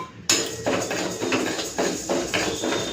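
Mung dal goes into a hot kadai with a run of sharp, rhythmic taps and clinks of lentils and utensil on metal, close and fairly loud, with no talking.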